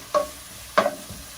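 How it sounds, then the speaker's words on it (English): Potatoes, tomatoes and spices frying in a pan are stirred in two quick scraping strokes, followed by a softer third, with a low sizzle underneath. "so we're going to mix that up."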